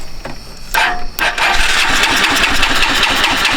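Engine cranked with key and starter, a brief whir and clatter before it catches and settles into a loud, steady running rumble close by.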